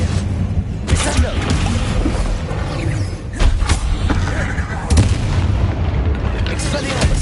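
Heavy booming slams and impacts from the Descendo spell in the video game Hogwarts Legacy, several loud thuds landing amid ongoing battle rumble while a voice shouts spell names.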